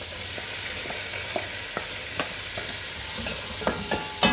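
Crushed ginger, crushed garlic and chopped onions fry in a hot pan with a steady, close sizzle, punctuated by a few soft scraping stirs spread through the stretch, no voices present.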